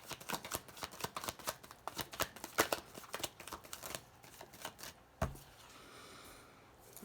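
Tarot cards being shuffled and drawn by hand, a quick run of crisp riffling snaps and flicks that settles into a few softer slides and one sharp tap near the end, close and quiet with no talk.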